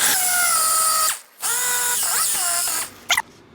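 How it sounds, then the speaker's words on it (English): A power tool fitted with a coarse 40 or 60 grit sanding disc grinds a damaged bumper. It gives a loud, high whine in two sustained runs separated by a short pause, then winds down and ends with brief clicks. "I'm using a really coarse, I think it's about a 40 or a 60 sanding disc here"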